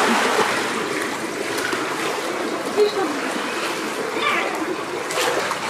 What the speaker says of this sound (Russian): с бомбочкой дети ныряют